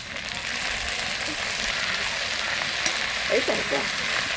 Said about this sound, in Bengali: এর মধ্যে আমি এবার দিয়ে দেবো সয়া সস